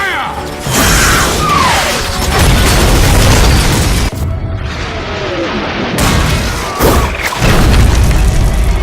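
A rocket launcher fires and its rounds explode in Destiny 2, with heavy booms and crashing blasts layered over dense mechanical game noise and a music bed, loud and continuous throughout.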